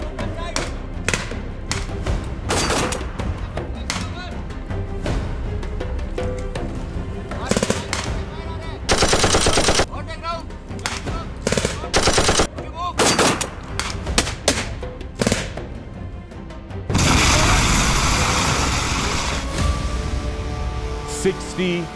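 Gunfire from an enemy post at night during a military infiltration exercise, heard as scattered sharp cracks and thuds through the passage, with a dense, loud burst near the end and voices talking in places.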